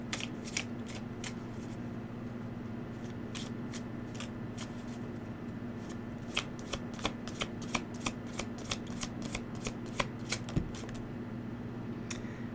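Oracle cards shuffled by hand in a long run of crisp riffling flicks that speed up toward the end, steady and close, over a constant low hum with no talking.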